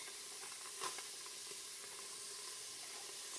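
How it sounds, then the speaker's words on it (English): Chopped onion sizzles in a hot pan of oil for vegan chili, a steady, fairly quiet hiss with a few faint crackles and no talking. "That sizzle, I love the sound of the sizzle."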